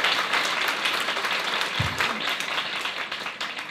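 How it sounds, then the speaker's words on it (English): Graduation ceremony audience applauding steadily throughout, a dense patter of clapping heard at a moderate distance. "I'd love you to give Tanya a round of applause as well."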